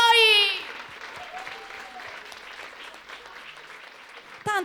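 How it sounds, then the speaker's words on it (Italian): Small audience at a live music evening claps after a sung song. The applause is soft and scattered, following a short stretch of voice at the start, and a brief burst of sound closes the clip. "un applauso a voi"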